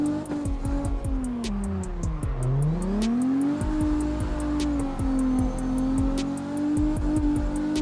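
Simulated car engine in the CarX Drift video game, droning loudly and steadily as the pitch dips and climbs through a drift, with rapid ticking clicks repeating throughout, no talking.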